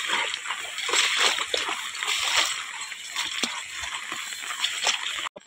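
Cows wading through stream water, their steps splashing and sloshing continuously up close, with bursts of spray in an uneven rhythm.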